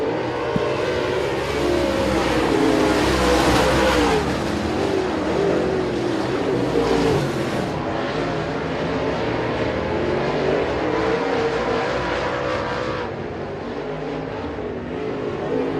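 Modified race cars in an American Racer Modified Series race at Sabine Speedway, a few cars circling the track with a continuous loud engine roar that swells and fades slightly as they pass, sustained for the whole stretch with no talk.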